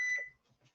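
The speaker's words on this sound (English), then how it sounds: "Timer." A kitchen oven timer gives a single bright electronic beep, close and clear, during a pizza cooking class with the oven set around 500 to 550 degrees, followed by faint kitchen rustle.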